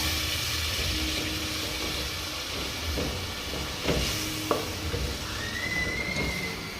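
Spaghetti with potatoes, mixed spices and a stock cube stirred in a cooking pot, a dense close bubbling hiss with soft scraping and clinks, one sharp knock midway, no voices.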